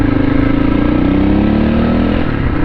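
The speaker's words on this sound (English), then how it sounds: "On board the KTM 640. This is a fun bike." A 2002 KTM 640 enduro motorcycle at riding speed, its single-cylinder engine making a steady, loud, close rumble with some clatter and wind, holding a nearly constant pitch for the whole stretch.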